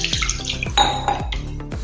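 Chhena for rasgulla is rinsed by hand with water in a metal vessel, giving splashing and sloshing with sharp clinks of the pot, several quick close splashes in a row and no talking.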